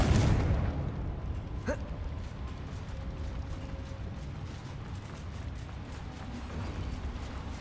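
A Confringo fire spell blast in Hogwarts Legacy inside a goblin mine, a loud booming burst at the start fading into a rumbling tail, followed by low game ambience.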